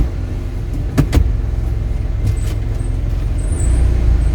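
A Kia All New Morning city car pulls away, a low steady engine hum and cabin rumble heard from inside, with a couple of sharp clicks early on and no speech.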